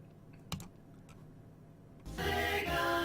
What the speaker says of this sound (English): That was just me clicking through the various folders to put the ROM in the right place.